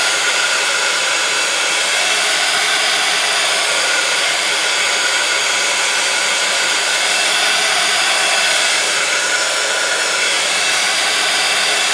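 A hair dryer or heat tool blows loudly and continuously at close range while drying a handmade Christmas card, a steady airy roar with no voices.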